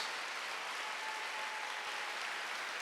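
Congregation applause at a Korean Wednesday worship service in a church, a steady wash of many hands clapping at moderate distance with no voices over it.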